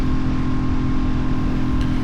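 A Royal Enfield motorcycle engine fitted with a DNA air filter runs steadily at close range, a dense, continuous low rumble with a fairly even throb and no clear rise in revs.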